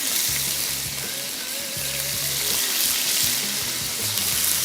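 Chicken breast strips frying in a pan over high heat for a stir-fried chili garlic chicken, a steady broadband sizzle running throughout with low clattering knocks of cookware, close and fairly loud, no talking.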